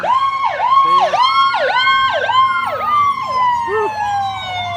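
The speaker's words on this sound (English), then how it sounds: "That's an ambulance." An ambulance siren passes close by, a loud wailing yelp that sweeps rapidly up and down in a steady cycle before settling into a long falling tone as the vehicle moves off.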